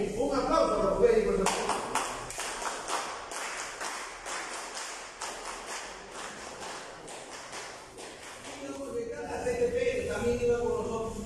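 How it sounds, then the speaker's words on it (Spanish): Applause for doctors at a school assembly in Peru: scattered, sparse claps from a small group ring out for several seconds, with voices talking before and after. "Así que un aplauso a los médicos."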